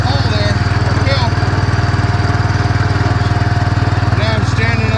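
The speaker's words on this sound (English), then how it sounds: "Little bitty tractor. Pulling that wagon up out of the hole there." A little tractor's engine chugs steadily as it pulls a wagon uphill out of a hole during forest recovery work, a close, loud, even throb with brief clanks over it.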